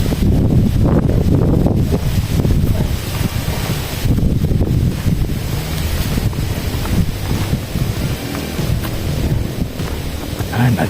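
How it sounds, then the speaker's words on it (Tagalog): Strong gusting wind buffets the microphone with heavy low roaring, steady throughout with surging peaks. "Lakas ng hangin."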